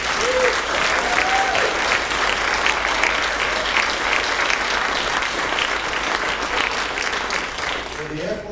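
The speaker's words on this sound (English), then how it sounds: "I think ACLU deserves our applause." Audience at a community forum on immigration and refugee rights breaks into loud, sustained applause, dense clapping filling the room throughout with a faint crowd murmur beneath.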